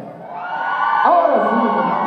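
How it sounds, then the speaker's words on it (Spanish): Women in a concert audience at a 2012 music awards show shout and cheer, a rising collective whoop swelling at the middle then fading, heard from a crowd at some distance. "A ver que se escuche el grito de las mujeres."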